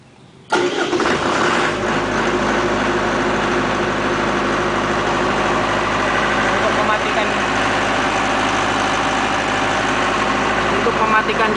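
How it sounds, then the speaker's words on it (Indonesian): A Multipro SDG 30000 AS diesel generator set starts up, a brief cranking burst followed by a steady, loud mid-pitched engine drone that settles into a constant idle. "Saya akan operasikan genset ini dalam keadaan manual."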